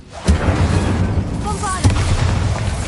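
A fire spell cast in a Harry Potter video game erupts in a loud, booming whoosh, followed by a second burst about a second and a half later over a rumbling battle bed with a voice speaking.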